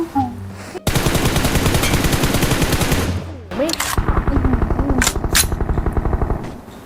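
Gunfire in the mobile game PUBG Mobile, loud rapid automatic bursts in two long volleys separated by a short pause, with voices briefly heard between them.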